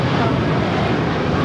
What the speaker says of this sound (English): This is United Airlines 1224 taking off to Honolulu on the 757-300.